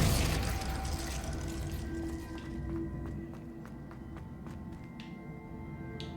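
Hogwarts Legacy combat with the Confringo and Glacius spells: quick thuds and booming impacts with sharp tapping hits, set against a sustained musical score that eases off a little toward the end.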